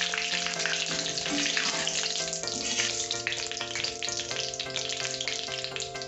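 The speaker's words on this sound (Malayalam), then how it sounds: "ഇത് കരിഞ്ഞു പോകരുത്, ചെറുതായൊന്ന് ഫ്രൈ ചെയ്താൽ മതി." Ingredients for Kerala spicy mixture fry lightly in a pan, giving a steady, close sizzle that runs without a break, with steady tonal hum layered above it.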